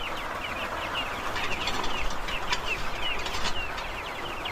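Chickens being fed on a small farm give soft, scattered clucks and bird chatter over a steady wash of background noise, with no clear talk.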